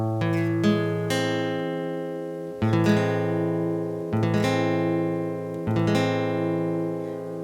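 Acoustic-style guitar strums a minor chord with an added major 7, struck four times at a slow, even pace, each strum ringing out and fading before the next, close and clear with no voices.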